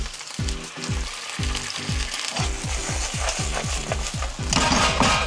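Onion and red chili being lightly stir-fried in a pan sizzle steadily close by, under a quick rhythmic series of spatula scrapes and knocks against the pan.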